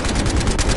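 Rapid automatic gunfire from a Battlefield Hardline video game, a dense burst of loud, close shots in quick succession filling the whole moment.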